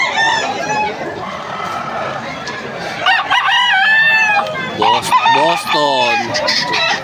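Several gamefowl roosters crow loudly and repeatedly at a busy open-air poultry market in Malolos, overlapping with clucking, while people talk nearby.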